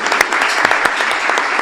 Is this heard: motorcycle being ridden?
no